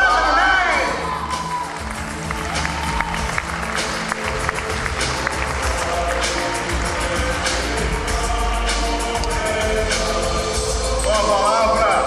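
A theatre audience at a Brazilian beauty pageant cheers, whoops and applauds as a performer takes the stage, a loud, sustained crowd roar with a voice over the noise.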